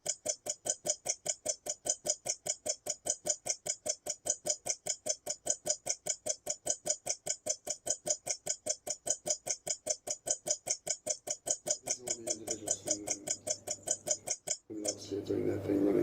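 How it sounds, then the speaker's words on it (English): Steady clock ticking in a television commercial, a sharp even rhythm of loud ticks running throughout, with a brief rumble and cutoff near the end. "Let's start with the sound of a clock ticking."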